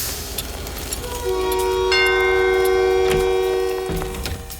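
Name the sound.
train departing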